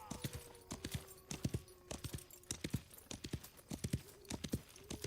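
A horse in the video game Wild West Online trots with clear, rhythmic hoof clip-clops. A brief whinny sounds, and a person talks over the hoofbeats.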